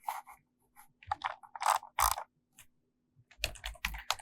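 Code is typed on a computer keyboard in short, irregular bursts of clicking keystrokes, close and clear, with quiet pauses between bursts.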